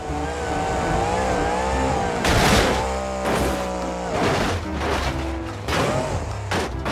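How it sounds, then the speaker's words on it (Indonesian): A monster truck engine roars loud and close, revving in repeated surges with rising and falling pitch and rough bursts between them, and no voices over it. "mobil truk monster"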